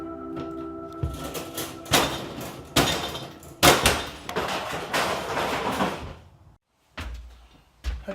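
Repeated sharp hammer blows crack and clatter against hard plastic overhead bins inside an Eagle bus, several strikes in an uneven rhythm with rattling debris, close and loud.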